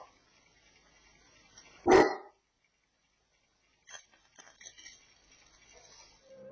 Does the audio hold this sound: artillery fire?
no